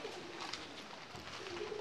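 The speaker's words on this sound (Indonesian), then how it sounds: "Merpati mana tuh? Merpati ongkoh." A pigeon coos faintly, low murmuring calls under a steady background hiss, in a place with pigeons kept beneath a house.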